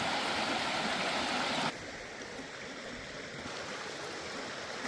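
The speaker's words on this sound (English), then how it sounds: "There's a little stream over there I want to gather some water from." A small stream flows with a steady watery hiss, louder at first then settling to a softer continuous rush, close by with no talking.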